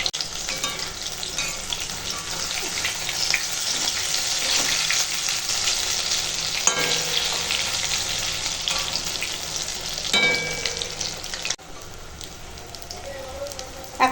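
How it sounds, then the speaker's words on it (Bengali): Pumpkin flower fritters coated in gram flour batter bubble and sizzle in hot oil with a steady crackle. Occasional stirring and scraping sounds rise through it. "এখন দেবো কুমড়ো ফুল এইভাবে বাকিগুলো ভেজে নিই"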